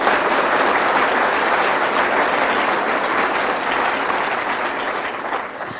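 A large audience claps in a loud, dense, continuous round of applause for about six seconds, easing slightly toward the end.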